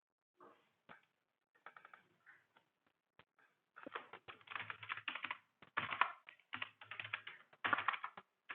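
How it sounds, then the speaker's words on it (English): Fingers type on a computer keyboard, close and quiet, starting as sparse scattered keystrokes and then speeding into a denser, steady clatter of clicks. "So I'm typing here."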